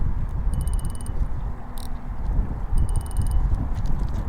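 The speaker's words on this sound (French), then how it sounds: "Il y a du vent." Wind blowing outdoors beside a lake makes a steady low rumble across the microphone, with faint high chirping and clicking sounds rising above it now and then.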